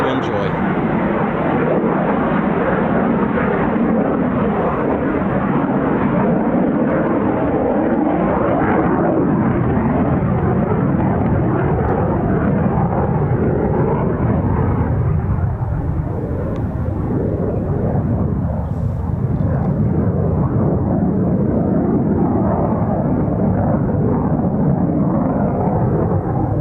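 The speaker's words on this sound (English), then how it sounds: "F-35 behind is going to do a low approach as well" F-35B stealth fighter jets fly circuits overhead, producing a sustained, loud, rumbling roar that swells and shifts gradually without a break, with a voice audible beneath the engine noise.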